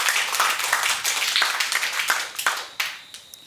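An audience at a classroom quiz game claps loudly in a dense, continuous burst of applause that thins out toward the end.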